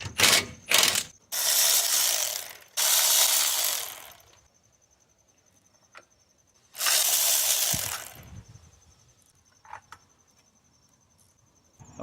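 Bursts of ratchet wrench clicking as 17mm bolts are loosened on a jacked-up 2007–2016 Toyota Sienna 3.5 V6 during a water pump job, with several rapid runs separated by quiet pauses and a few small metallic taps.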